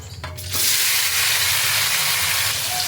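Boiled young jackfruit hits hot oil in a pan and breaks into a loud, sudden sizzle that holds as a steady close hiss, with a few quieter clinks just before it starts.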